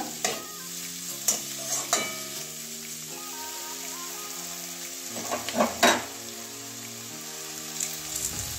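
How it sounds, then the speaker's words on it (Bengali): Potatoes and eggplant are stirred in a frying pan, with a soft continuous sizzle broken by sharp scrapes and knocks of the spatula, close up and with no talk. "ভাজা করে নিয়েছি আলু আর বেগুনটা"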